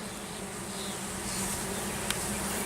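Honey bees buzz in a dense, steady drone from an open hive during an inspection, loud and close throughout, with one brief click near the end.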